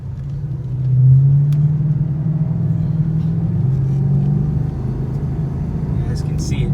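A 2014 Mustang GT with a Coyote 5.0 V8, L&M intake cams, Lund tune, X-pipe exhaust and 3.31 gears pulls away from a stop, its deep engine rumble swelling and holding steady up close, with someone talking over it.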